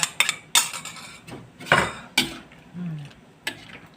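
A utensil scrapes and knocks against a pot while stirring a fish curry thickened with ground rice, giving several sharp clinks and scrapes at irregular intervals, close by with quiet gaps between.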